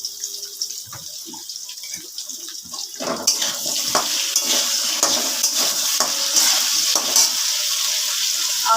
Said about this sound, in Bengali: তেলটা হয়ে গেছে, প্রথমে আলু দিয়ে দিচ্ছি, দিয়ে দিচ্ছি একটু নুন